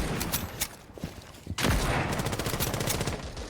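Rapid gunfire in Rainbow Six Siege, a brief burst early on followed by a loud, sustained volley of rapid shots from about halfway through, with no talking over it.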